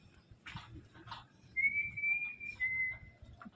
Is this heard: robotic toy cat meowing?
no